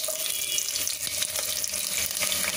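Steady, close sizzling of small shallots frying in hot oil, a continuous crackling hiss with no talking.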